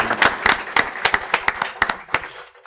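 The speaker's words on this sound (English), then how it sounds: "let's give her a big round of applause" A small audience at a city council meeting gives a short burst of applause, a few dozen distinct claps that thin out and stop abruptly after about two and a half seconds.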